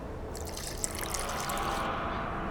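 Water poured into an alchemy mixture of burnt lime in The Witcher 2 video game, a short, steady, splashy trickle that runs for about a second and a half over a low background hum.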